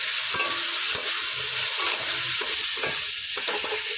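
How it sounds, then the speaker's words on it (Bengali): Fried potatoes tossed with turmeric, salt, cumin and coriander powder sizzle in a pan, with a spoon scraping and stirring in irregular strokes over a continuous close hiss; no talking. "ভালোভাবে নেড়ে চেড়ে ভেজে নেব।"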